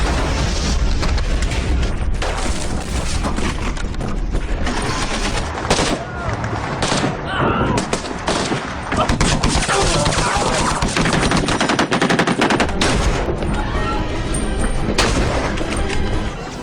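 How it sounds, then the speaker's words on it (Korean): In a war film, buried bombs blow up under passing vehicles and are followed by heavy gunfire. Loud booms and dense bursts of shooting run without a break, with shouting voices mixed into the chaos. "이들의 교전은 차량들이 지나갈 때 매설해둔 폭탄을 폭발시키며 시작되죠"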